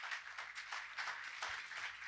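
A church congregation applauds during a sermon, a steady wash of many hands clapping at once that stays loud and dense for the whole stretch, with no words spoken over it.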